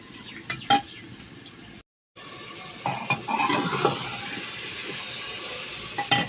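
Onions frying into crisp beresta for biryani, a steady sizzle with stirring scrapes in a pan, close and continuous, broken by a brief silent gap midway.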